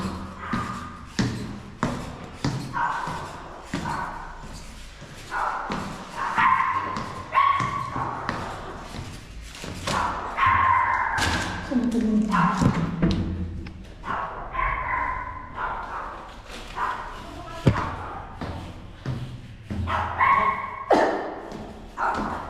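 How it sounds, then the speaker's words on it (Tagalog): Dogs bark on and off throughout, some barks near and some farther away, with yips and whines mixed in. Shuffling and movement noises run underneath. "Aso nilang ingay."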